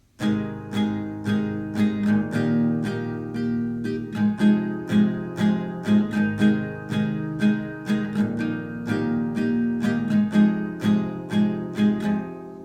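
Acoustic guitar strumming an easy song intro in a down-down-down-up pattern, steady rhythmic chord strokes ringing together, close and unaccompanied by voice.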